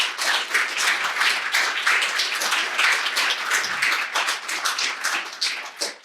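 Conference audience applause fills the room, dense sustained clapping from many hands at a steady loud level throughout, with no voices rising above it.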